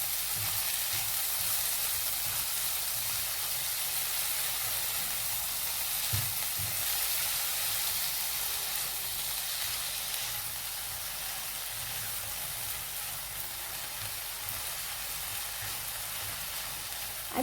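Onions fry in a pan for mung dal cooked with a fish head, giving a steady close sizzle and crackle throughout with a few soft stirring knocks and no talk.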